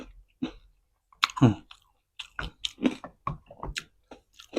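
Crispy pork rind crunched and chewed up close, a run of sharp, crackly bites with short pauses between them and no talking, eaten alongside a large tray of tender beef and waterfall salad.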